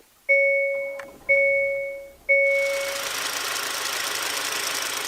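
A Hyundai Santa Cruz with a 2.5-liter turbo four is started at 30 below in snow: three loud chiming alert tones ring out, then the engine catches and settles into a steady, close idle roar.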